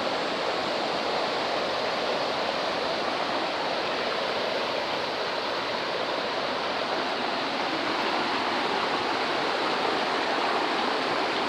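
Steady rushing of flowing stream water, continuous and fairly loud, with no voices or breaks.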